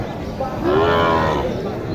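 A young Sahiwal heifer gives one long, loud moo at a crowded Naogaon cattle market, rising and holding before fading, over a steady din of crowd noise.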